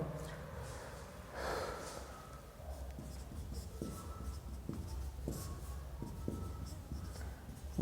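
Pen strokes scratch across paper as an answer is written out, a series of short soft scrapes at an irregular pace, fairly quiet and close, with occasional breathing.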